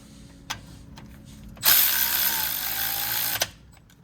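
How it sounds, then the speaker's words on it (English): Electric impact wrench with a 19 mm socket snugging a front hub bolt on a Chevy truck: one short loud burst of hammering whir lasting under two seconds, close up, with brief clicks before and after and no talk. "Throw it on my electric impact. Snug it up."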